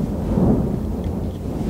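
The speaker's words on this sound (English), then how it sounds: "Thunderstorm." Low rumbling thunder rolls steadily through a thunderstorm with rain, a dense continuous wash of low noise that swells slightly and holds throughout the short stretch.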